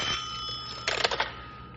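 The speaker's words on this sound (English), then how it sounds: "Bill, phone's ringing." An old-time radio telephone bell rings in a short burst of rapid clangs near the middle, loud and close, over a steady background hum with no talking.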